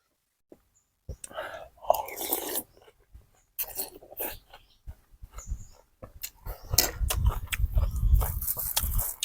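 Close, wet chewing and slurping of small rice noodles in tom yum soup, repeated bites running under soft murmured talk and growing louder toward the end.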